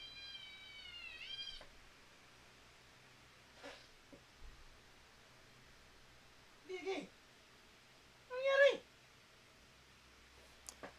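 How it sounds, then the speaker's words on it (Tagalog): A cat meows indoors: a drawn-out wailing cry, then several shorter, sharper meows spaced over several seconds against a quiet background with faint clicks. "Umiyak ang pusa ko."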